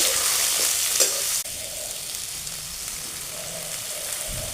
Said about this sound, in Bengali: আলুটা দিয়ে পেঁয়াজের সাথে বেশ কিছুক্ষণ ভেজে নেব